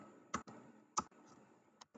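A few sharp keyboard clicks at a computer while a search term is typed in, quiet and irregular, heard alone with no talking.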